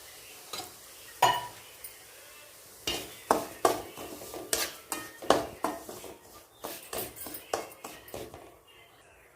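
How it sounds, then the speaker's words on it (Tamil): Semolina being dry-roasted in a pan for rava laddu: a spoon scrapes the pan in a run of short rhythmic strokes, moderately quiet and close, with a few scattered scrapes before it. "இப்போ ரவையை போட்டு நல்லா வறுத்துக்கலாம்"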